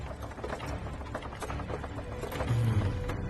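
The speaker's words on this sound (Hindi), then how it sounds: "ये तो राहट की आवाज है।" Persian water wheel (rahat) turning at night, faint, steady rhythmic clicking and knocking of its mechanism, heard alone.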